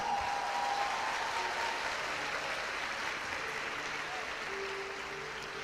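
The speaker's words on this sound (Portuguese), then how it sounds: "Pode aplaudir" A church congregation applauds a woman preacher in a steady, moderately faint wash of clapping that slowly fades, with a murmur of voices underneath.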